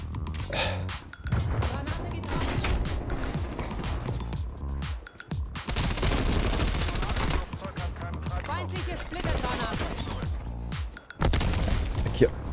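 Bursts of gunfire in Call of Duty: Black Ops Cold War arrive in several loud clusters separated by brief pauses, dense and close, with someone talking between and over the shots.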